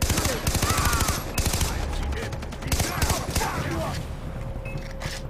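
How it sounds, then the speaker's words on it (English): Far Cry 3 gunfire rattles in rapid bursts of shots, dense and close, over game ambience, with the shooting easing off toward the end. "Now I wanna fire this other gun for once at least"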